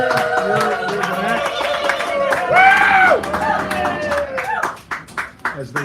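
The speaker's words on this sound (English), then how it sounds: "So give him a round of applause." A small café crowd at a poetry hour claps under voices and background music, with scattered, distinct hand claps growing more separate and sparse toward the end.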